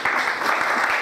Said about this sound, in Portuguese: Gostaria de dar uma salva de palmas para essa prefeita.